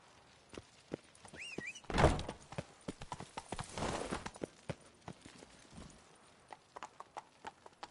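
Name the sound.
horse hooves clip-clopping in the video game Witcher 3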